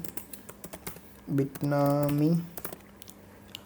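Someone types a FileZilla username on a computer keyboard: a steady stream of close, light key clicks, briefly joined midway by a spoken voice before the tapping resumes alone.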